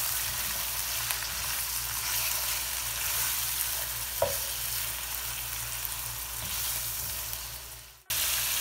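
Ginger, garlic and green chili frying with chicken in a pan give a steady, close sizzle throughout, with a brief stir or clink midway and a sharp cut near the end.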